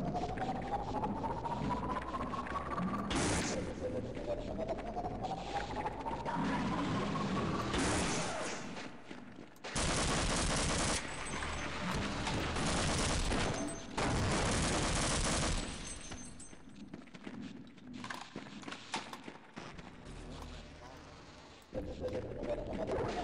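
Gunfire in the video game Half-Life, with the player fighting beside the security guard Barney: dense bursts of shots and loud crackling volleys come in long stretches over steady game noise, with rising mechanical tones between them.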